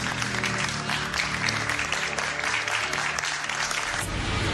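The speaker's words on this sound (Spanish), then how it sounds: "Les vamos a dar un aplauso." Audience applause fills the whole stretch, a dense, steady wash of many hands clapping at an even level, with a faint low tonal hum running underneath.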